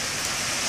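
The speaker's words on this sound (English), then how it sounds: "It's raining bad." Heavy rain pours down in a steady, dense hiss, soft and continuous, with no voices.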